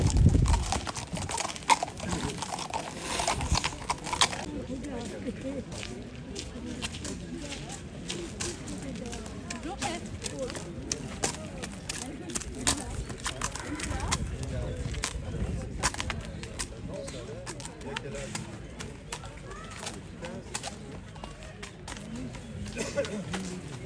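Franches-Montagnes horses led past at an outdoor horse show and market, hooves clip-clopping in an irregular stream under continuous talk from an announcer and crowd murmur.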